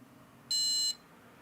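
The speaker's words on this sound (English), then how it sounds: "The beep beep means that the memory overclock failed." A single short, high electronic beep from an ASRock X870E Taichi motherboard after a failed memory overclock, clear and steady for under half a second against a faint background hum.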